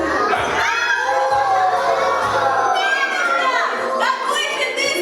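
A group of children shout together loudly in a sustained, bright chorus of calling voices, rising and falling over about five seconds with a second swell of shouts toward the end.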